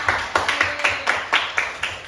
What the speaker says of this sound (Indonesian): Jadi bisa tepuk tangan dulu untuk Diah Melani, Doni dan juga Dena.